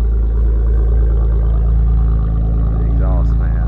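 A car's exhaust drones loudly up close with a deep steady low rumble throughout, someone talking over it.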